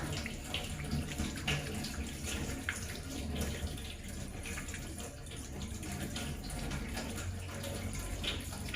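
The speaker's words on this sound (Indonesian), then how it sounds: "Kita bilas dengan cara yang sama." Hands are rinsed under a running tap as part of hand-washing in an intrapartum care setting, a steady soft splash of flowing water that continues throughout with no talk.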